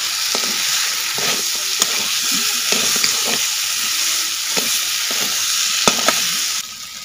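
Goat head frying in hot oil in a pot over a village cooking fire, a steady loud sizzle throughout with scattered sharp pops and stirring scrapes, no voices.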